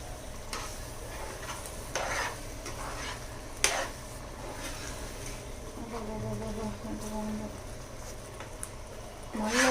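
Pav bhaji is stirred in a pan over the heat, a sizzling, scraping churn with occasional sharp spoon knocks against the metal, close up, while a voice talks over it.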